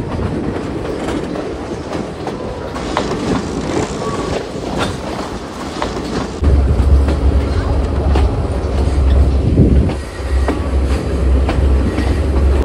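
Train on the Ella line in Sri Lanka rolling along its rails: loud, steady rumble with rhythmic clickety-clack of wheels, a deeper roar setting in partway through, heard from inside with faint voices.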